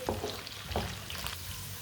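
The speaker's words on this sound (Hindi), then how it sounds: "मटर को भी 2 मिनट के लिए मैंने फ्राई कर लिया है।" Peas frying gently over low heat in a pan make a faint, steady sizzle, broken by a few soft stirring scrapes.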